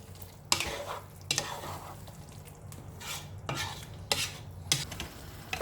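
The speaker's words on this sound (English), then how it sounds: "Give it all a good stir." A spoon scrapes and stirs through prawn biryani with lemon juice in a pan, several sweeping strokes over a soft background sizzle.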